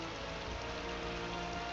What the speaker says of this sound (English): Fishing in the rain.